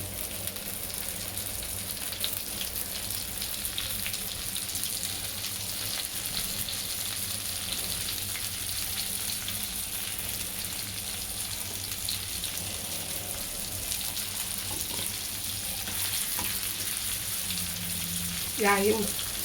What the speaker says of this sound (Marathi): दुसरा मच्छी आपण त्याच पद्धतीने टाकून घेऊया